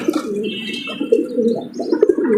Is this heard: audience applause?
no